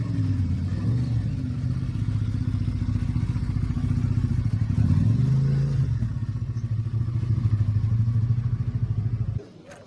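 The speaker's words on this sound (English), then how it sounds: "Still a great 100 brake horsepower V-twin 1000cc engine." A Honda 1000cc V-twin motorcycle engine idles close by with a deep, lumpy throb, briefly rising in pitch mid-way before cutting off abruptly near the end.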